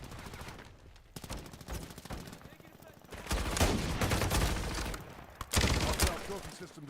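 Video game gunfire in a military shooter, repeated close automatic bursts and rattling volleys, several loud clusters building toward the end.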